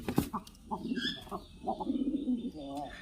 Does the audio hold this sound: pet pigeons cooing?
yes